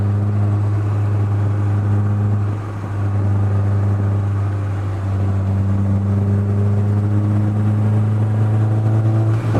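Peugeot 205 GTI engine labouring at full throttle up a mountain road, a loud, steady low drone held near a constant pitch with a slight dip mid-way, close and continuous without speech.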